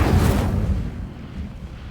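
A single fiery Incendio spell from Hogwarts Legacy bursts with a deep, loud whoosh-boom at the start, then rumbles and fades over about two seconds, with no talking.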